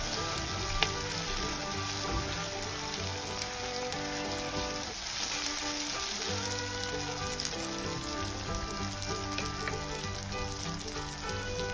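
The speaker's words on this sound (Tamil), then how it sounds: "இப்போ இது நல்லா வதங்கட்டும்" Onion and tomato sauté in a pan while making village-style clay-pot fish curry, giving a dense, continuous close sizzle that stays even and unbroken with no voices.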